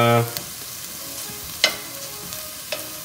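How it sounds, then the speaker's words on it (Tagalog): Pork for kilayen fries in its own rendered fat, a steady close sizzle running throughout with a few faint clicks of a utensil against the pan. "maprito siya doon sa sarili niyang mantika"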